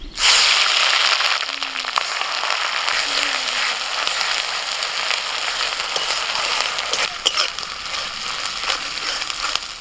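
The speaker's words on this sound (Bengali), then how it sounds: "ফোড়নটা ভাজা হয়ে গেলে দিয়ে দিচ্ছি পেঁয়াজ বাটা।" Onion paste frying in hot oil with whole cardamom, cinnamon, cloves and cumin, cooked for a katla fish curry; a steady, close, loud sizzle and hiss runs throughout with no voices.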